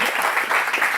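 A church congregation claps in a dense, steady burst of applause, close and full for a brief moment.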